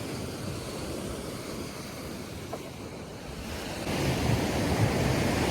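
Ocean waves break on a broad beach in Bali, a steady rushing surf with wind buffeting the microphone, swelling louder in the final seconds and heard alone.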